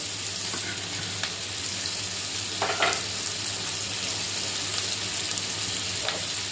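Cumin seeds and onions frying in a pan give a steady, close sizzling hiss with a few soft crackles, no voices over it.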